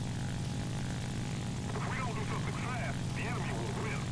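A Ki-84 Ko propeller fighter in the War Thunder video game drones steadily with a loud, continuous engine roar, and a voice rises above it partway through.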